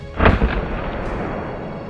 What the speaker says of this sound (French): Je tente une deuxième balle qui passera devant